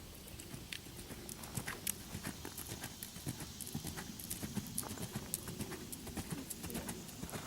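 A ridden horse moves in a steady clip-clop of hooves on ground, rhythmic and moderately near but faint, with a few louder strikes and no talk.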